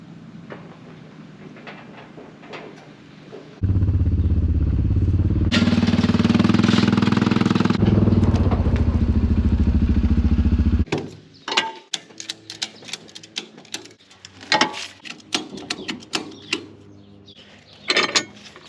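A side-by-side utility vehicle engine runs loudly for several seconds with a rough mechanical drone, then cuts out, giving way to clanks, rattles and scattered handling noises close by.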